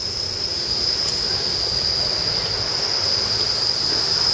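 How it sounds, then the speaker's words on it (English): A subway train rumbles steadily overhead, heard from beneath the elevated tracks, with a continuous loud roar and a thin high metallic whine of the wheels running throughout. "Right under the subway."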